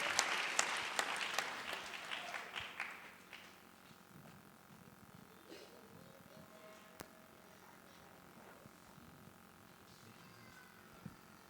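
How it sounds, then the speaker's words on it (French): A church congregation applauds in a loud burst of clapping that fades after a few seconds, leaving a quiet room with scattered faint noises. "Applaudissons le Seigneur des Seigneurs."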